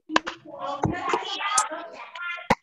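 A few sharp hand claps ring out amid a busy, chattering room of children's voices, with one distinct clap near the end.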